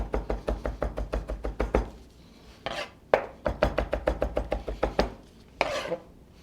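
Garlic being finely minced with a knife on a board: quick runs of crisp, close chopping taps in rapid bursts, separated by short pauses and a few scraping sweeps.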